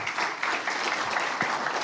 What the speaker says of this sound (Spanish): yo quisiera que le dieran un aplauso a estos panelistas